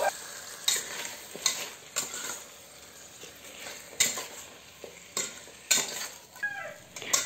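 Food stirred around a hot cooking pan, with repeated scraping strokes over a steady background sizzle, close and fairly quiet, no talking.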